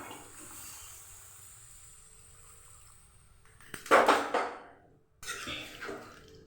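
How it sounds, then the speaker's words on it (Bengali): Water is poured into a cooking pot of hilsa fish curry with ash gourd, two short splashing bursts with clattering after a quiet stretch. "এবার দিয়ে দেবো পরিমাণ মতো জল।"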